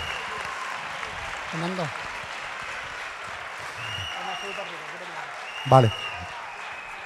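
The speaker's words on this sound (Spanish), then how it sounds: "vamos a darle un fuerte aplauso porque ellos han velado noche tras noche por nuestra seguridad" Audience at a carnival theatre final applauds civil protection and Red Cross volunteers, steady clapping running under a man's speech, with a brief louder burst near the end.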